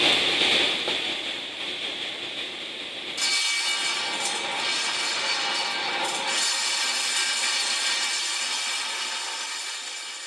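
Wood being beveled for a shop shelf with a saw, a sustained rasping cut that shifts in tone partway through, close and steady for about ten seconds with no speech.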